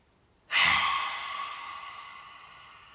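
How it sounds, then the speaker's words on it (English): A single deep breath drawn in during a qigong session, a soft, close airy inhalation that swells suddenly and then tapers off slowly in a quiet room. "Breathe in."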